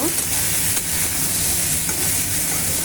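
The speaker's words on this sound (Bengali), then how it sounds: "এবার ভালো করে কষিয়ে নেব" Green banana pieces and prawns sauté in an oil-filled pan for a prawn curry, giving a steady, loud, close sizzle with stirring scrapes throughout and no talk.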